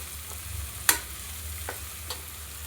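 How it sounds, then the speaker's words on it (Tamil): Goat intestines frying in hot oil in a pan, a low steady sizzle with a few soft stirring scrapes and clicks. "நல்லா ஒரு 2-3 மினிட்ஸ் கண்டிப்பாக எண்ணெயிலே நல்லா வேக விட்டால் தான் குடல் நல்லா டேஸ்ட்டாகவும் இருக்கும்"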